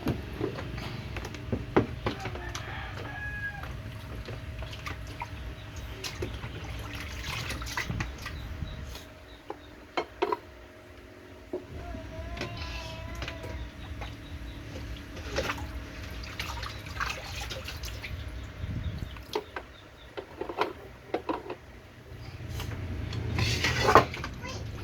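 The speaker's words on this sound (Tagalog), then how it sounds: "Naghuhugas ng plato si Ninya." Dishes being washed in a sink under running water, with steady water flow, drips and intermittent clinks of plates and cutlery, plus occasional cupboard or basin knocks; faint voices talk now and then in the background.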